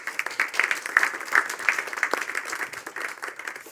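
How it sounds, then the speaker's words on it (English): Audience applause closing a day-long policy conference in Helsinki, a dense, steady patter of many hands clapping at moderate volume, slightly roomy and continuing without pause. "I think we should give us a big applause to all of us."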